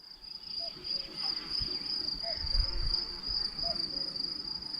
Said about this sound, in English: Crickets chirp in the grassy meadow.